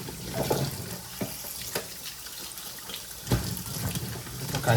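Kitchen tap water pours steadily into a sink as vegetables are rinsed, with a close, continuous splash and a few sharper clatters and surges along the way.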